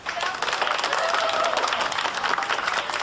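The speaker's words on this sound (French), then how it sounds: "Oh, je trouve que Monsieur Tan mérite une salve d'applaudissements." Dense, lively round of clapping from a small crowd applauding a skilled cook named Mr. Tan in Malaysia, continuous and close for the whole span.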